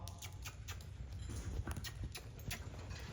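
A horse's hooves beat in a quick, rhythmic three-beat pattern while loping during show practice, soft and somewhat distant with faint arena noise.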